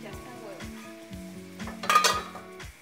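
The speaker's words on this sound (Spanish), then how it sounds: "y vamos revolviendo con el resto de los ingredientes" Chinese-style rice with added ingredients is stirred in a sizzling pan. A utensil scrapes and clinks in a steady rhythm, and a brief louder burst of sizzling comes midway.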